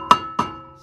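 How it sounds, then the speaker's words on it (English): A mallet strikes a stuck brake rotor on a Honda Civic or Acura Integra with the caliper removed. Two sharp metallic smacks land about a third of a second apart, close and ringing briefly, with no talking. "So what you wanna do is get a mallet, smack it,"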